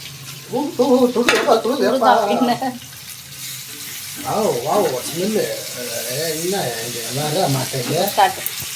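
Chilli fish sizzles and fries in a pan as it is turned over. The frying hiss sits under steady conversational speech.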